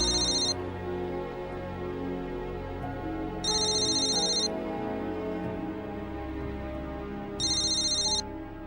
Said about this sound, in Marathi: नमिता फोन उचलत नव्हती म्हणून तुला केला फोन